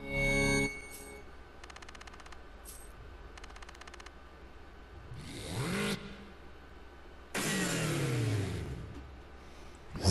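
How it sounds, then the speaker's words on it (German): Car engine in the racing video game Super Street revs up and runs again, a rising whine with revving sweeps, set against stretches of rapid mechanical rattling and bursts of game noise. "Auto läuft wieder."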